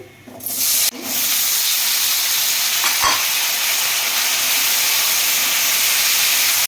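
Loud, steady sizzling of potatoes frying in a hot wok, a continuous bright hiss with a brief clatter near the start.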